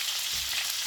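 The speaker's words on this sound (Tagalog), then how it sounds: "Piniprito ko ng maayos." Pork sticks frying in a pan give a steady, close hissing sizzle with faint bubbling and no voices.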